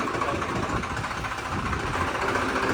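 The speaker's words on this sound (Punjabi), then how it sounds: "ਟਰੈਕਟਰ ਨਾ ਬਿਲਕੁਲ ਸਲੋ ਰੇਸ ਤੇ ਖੜਿਆ" A rain-wet tractor engine idles slowly and steadily nearby, a constant low rumbling drone with no change in pace throughout.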